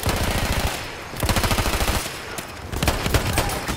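Loud, sustained automatic gunfire in a shooter video game, with rapid rhythmic bursts nearly filling the whole stretch and only brief gaps between volleys.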